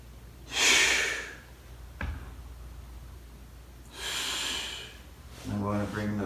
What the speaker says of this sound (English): And then I'm going to breathe in.